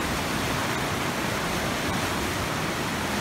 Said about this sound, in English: I wonder how many cubic feet per second this river is moving right now.